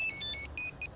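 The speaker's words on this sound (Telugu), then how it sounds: "ఫోన్ మోగాలనుకోలేదు." A mobile phone ringtone plays a bright electronic melody of short tonal bursts in a quick, repeating rhythm, clear and fairly close, with nobody speaking over it.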